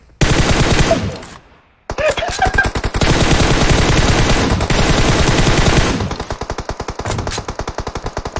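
Loud, close automatic gunfire in a battle royale shooter: long rapid bursts of shots with a short silent gap early on, tapering into steadier, slightly quieter firing toward the end.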